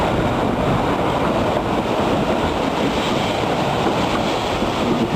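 Georgetown Loop Railroad train pulling into Devil's Gate Station, a steady, dense rumbling roar that holds evenly throughout with no voices.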